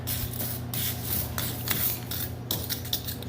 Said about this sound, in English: You can take a wire brush and clean it off.